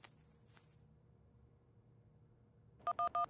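A mobile phone call is dialed: three short electronic key tones beep in quick succession near the end, after a brief burst of high hiss and a quiet stretch.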